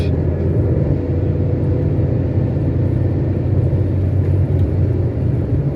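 A car engine drones steadily and loudly at highway speed, about 100 km/h around 4000 rpm, while moving from fourth into fifth gear on a toll road; the low rumble holds continuous throughout with no voices.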